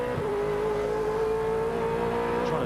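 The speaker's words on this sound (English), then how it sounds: "just easing the car around the turns, not being savage on the throttle" A V8 Supercar engine, heard from inside the car driven by Craig Lowndes, holds a steady, buzzing drone at moderate revs while the car eases through a turn, loud and close, with no one speaking.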